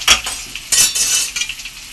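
Half a spoon of mustard seeds splutters in hot oil in a pan for an okra dish, with sharp crackling bursts and pops in close, uneven clusters and no voices.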